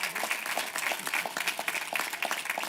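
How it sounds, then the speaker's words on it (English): Graduates at a Queens College commencement ceremony applaud themselves, a crowd of hands clapping in a steady, lively wash with crisp individual claps, moderately distant in a large space. "Give yourselves a round of applause."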